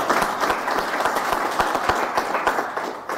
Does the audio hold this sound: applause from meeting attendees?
yes